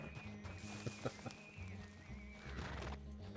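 A horse in the Red Dead WildRP game gives a neigh over soft hoof clip-clops, with a few louder thumps and a steady background tone, fairly faint overall.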